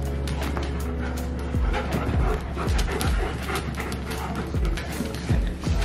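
Dogs pant rapidly and whimper close by in a home with a newborn, a steady breathy rhythm with short rising whines, continuous throughout against a constant low background hum.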